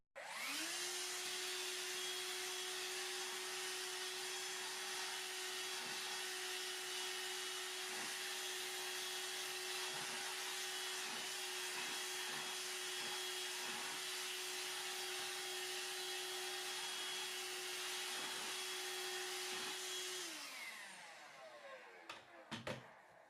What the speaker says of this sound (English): It sucked up the flour, even from the little cracks and gaps in the floor.